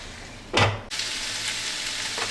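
Thai basil vegetables with green chili cooking in a pan as it is covered, a loud clatter from the lid, then a steady soft sizzle and simmer that continues alone.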